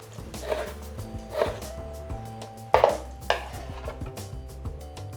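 A knife slices through cabbage on a cutting board in about four distinct, crisp chopping thuds, spaced unevenly and heard close up.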